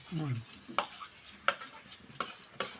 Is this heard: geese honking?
no